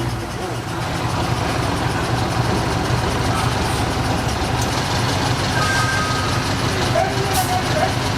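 The engine of a 360 car idles nearby with a steady mid-pitched rumble, while people talk over it throughout.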